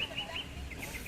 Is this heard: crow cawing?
yes